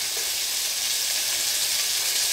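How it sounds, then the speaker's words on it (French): Pieces of veal browning on an electric hotplate, a steady bright sizzle and crackle of fat filling the whole moment, close and even with no voices over it. "du temps que mes morceaux de viande rissolent"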